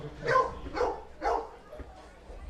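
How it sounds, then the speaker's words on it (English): Dogs bark three times at a baseball game in the Orange County Great Park, short moderately distant woofs in an even rhythm over faint crowd background. "if you just heard a few barks, that is right. There are dogs here at the Orange County Great Park."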